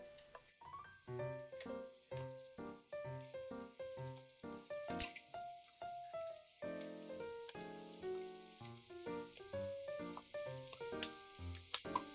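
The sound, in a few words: Japanese long green onion (naga negi) sizzling as it grills in a pan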